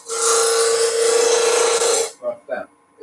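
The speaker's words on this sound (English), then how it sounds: "you start with your tool handle low, bring the handle up until you get the shavings made" A chisel roughing down spinning wood on a lathe gives a loud, steady rasping hiss for about two seconds, then stops, followed by a couple of soft voice sounds.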